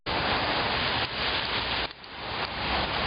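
Steady, dense rain falls outdoors during a walk in Asia, a loud continuous hiss with slight shifts in intensity and no voices.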